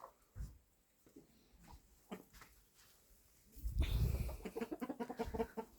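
Broody hens cluck in short bursts nearby, building into a quick run of rhythmic clucks toward the end, with some rustling.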